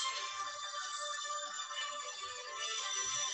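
A phone rings steadily throughout, an electronic ringtone playing continuously at a moderate level with no talk over it.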